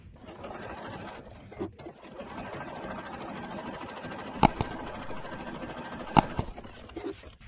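Sewing machine stitching around the round neckline of a burqa for a girl, running steadily and close for the whole stretch with two sharp clicks partway through.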